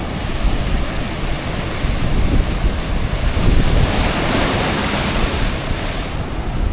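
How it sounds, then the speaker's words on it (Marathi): Ocean waves surging in front of Kunkeshwar temple near Malvan on the Konkan coast, a loud, continuous roar of surf with heavy wind buffeting the microphone throughout. "अशा उसळत्या लाटा"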